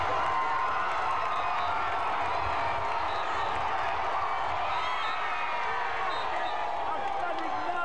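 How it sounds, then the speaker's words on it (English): Crowd roaring and cheering at the finish of the 2006 Cross Country Cycling Classic as the winner raises his arms, a dense, continuous wash of voices and shouts held steady throughout. "He raises his arms in victory, and the crowd roars."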